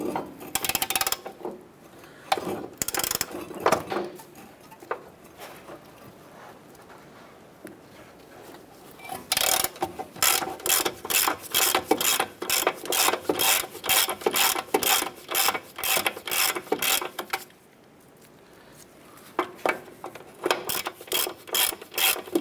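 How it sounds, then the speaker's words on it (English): A ratchet with a 17mm socket loosens the upper ball joint nut on a 2008-2012 Honda Accord, giving off rapid, loud, close clicking in repeated bursts separated by brief pauses. "Using a 17mm socket, I want to go ahead and remove our upper nut here."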